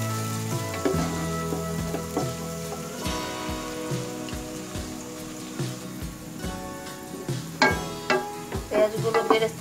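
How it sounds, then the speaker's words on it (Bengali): Sliced onions frying to a deep brown in hot oil for beef biryani, a loud continuous crackling sizzle with irregular spoon scrapes and pops, no voices. "পেঁয়াজগুলো আমি একটু ব্রাউন কালার করে, বেরেস্তা কালার করে আমি ভেজে নিব।"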